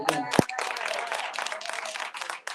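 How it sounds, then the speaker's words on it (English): A church congregation claps in dense, continuous applause with a few sharp individual claps standing out near the start. "Let's give her a round of applause again."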